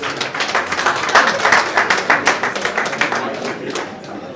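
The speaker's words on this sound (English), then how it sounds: "Please clap for this young gentleman." Steady, dense clapping from a crowd, many hands beating at once with a rapid, uneven patter over a few seconds, fairly loud and close.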